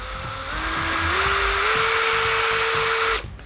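A Bosch GSB 18V cordless impact drill driver whines loudly as its trigger is squeezed harder, the motor pitch climbing in several distinct steps before cutting off abruptly near the end.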